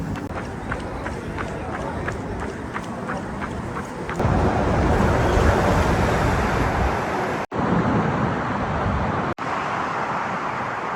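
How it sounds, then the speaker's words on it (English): Strong wind buffets loudly against a nearby microphone in a constant roaring rush during a run in New York City, with footsteps pounding rhythmically early on and brief dropouts later. "It is super windy"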